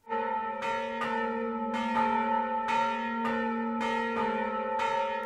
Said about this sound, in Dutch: Dit zijn dan ook de oudste kerkklokken van de gemeente Nunspeet.